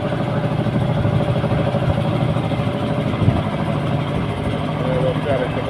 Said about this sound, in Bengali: আরেকটা ট্রলার যাচ্ছে দ্রুতভাবে।